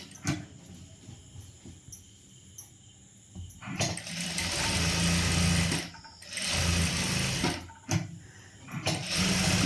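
A domestic sewing machine stitches the lining of an umbrella churidhar, its motor whirring in bursts that start and stop between pauses, loud and close with a steady mechanical hum.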